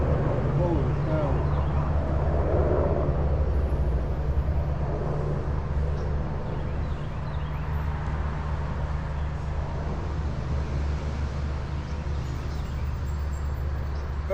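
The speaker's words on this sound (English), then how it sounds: "sorry about the noise in the background." Steady roadside traffic rumble from a nearby road beside a finished construction job, a continuous low drone of passing vehicles that holds at a constant, fairly loud level throughout, with faint bird calls above it.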